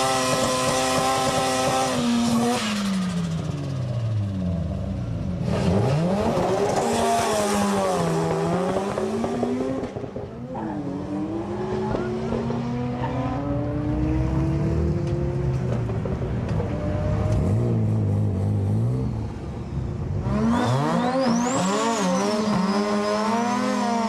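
A Mazda FC RX-7 street drag car on a Japanese drag strip screams through repeated hard accelerations, its rotary engine climbing in pitch through each gear with brief dips at the shifts, loud and close, with no talk.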